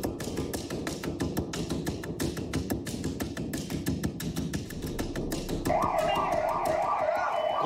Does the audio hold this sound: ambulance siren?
yes